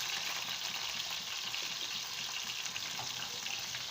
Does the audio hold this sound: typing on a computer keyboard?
no